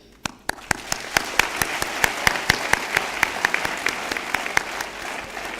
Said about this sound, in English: May I please request everyone to applaud the session.